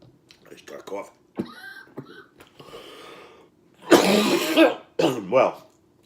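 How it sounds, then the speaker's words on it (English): A person coughs hard after inhaling a vaped dab from an e-rig, several harsh coughs and throat clearing, with bursts of speech around them. "I start coughing."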